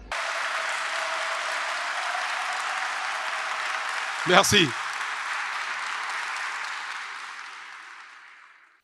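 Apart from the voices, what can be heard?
audience applause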